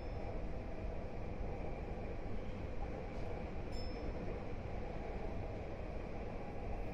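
A Tokyu Den-en-toshi Line express train rolls through Takatsu Station on the way between Shibuya and Nagatsuta, giving a steady, loud rumble throughout with a brief high squeal partway through.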